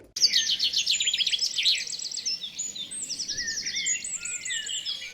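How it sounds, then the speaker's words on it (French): Birds sing and chirp in bright, rapid trills and tweets, several overlapping calls continuing steadily over a quiet countryside background. "le chant des oiseaux, le calme un peu de la campagne"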